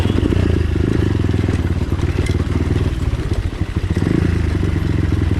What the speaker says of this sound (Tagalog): Bakit namamatay yung aking motor?